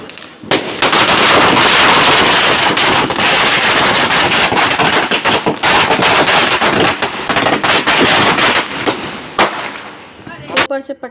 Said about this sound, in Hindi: ऊपर से पटाखे छुटाने के बाद